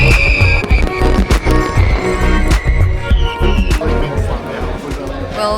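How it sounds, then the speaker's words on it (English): Fireworks crackle and boom at the San Fermin festival in Pamplona, sharp bursts recurring irregularly over a dense crowd's chatter and babble, loud and close. "we are here already waiting for the fireworks"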